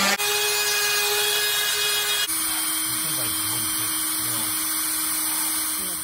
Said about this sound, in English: Now I'm just gonna sand them down because I don't want them to snag on anything.